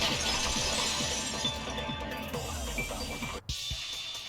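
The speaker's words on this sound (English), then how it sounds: "At the entrance hall, the girls heard the sound of the window shattering." In the Danganronpa 2 video game, a glass window shatters in a loud, sustained crash of breaking glass and scattering shards, with a brief cut of silence near the end.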